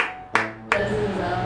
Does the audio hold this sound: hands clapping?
yes